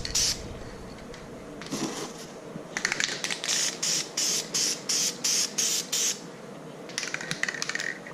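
Short bursts from an aerosol can laying down a light matte clear coat, about eight quick evenly spaced sprays in a steady rhythm, close and fairly loud, with brief pauses between passes.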